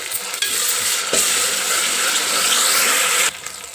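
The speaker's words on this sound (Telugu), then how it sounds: "అల్లం వెల్లిగడ్డ కూడా మంచిగా వేగింది కదండి ఇప్పుడు" Ginger garlic paste frying and being stirred in hot oil with onions for a mutton curry, a steady close sizzle with scraping spoon strokes throughout, no voices.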